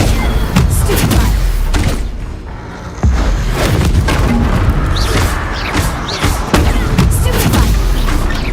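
Stunning Stupefy spells cast again and again in Hogwarts Legacy, landing as heavy booming thuds and crashes amid a dense wash of battle noise, with a brief lull in the middle before the impacts resume.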